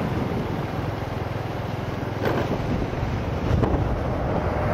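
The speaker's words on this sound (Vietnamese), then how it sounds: "gió thổi lên mát, có hơi lạnh luôn á" Strong wind blows across a coastal road by the sea near Mũi Kê Gà and Phan Thiết, a loud continuous rushing roar buffeting the microphone, with faint surf underneath and no talk.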